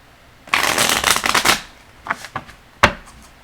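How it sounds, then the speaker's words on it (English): Quick riffle of a tarot deck, a dense rustling burst lasting about a second, followed by a few sharp snaps and taps of cards being squared. "Let's see if I shuffle it correctly."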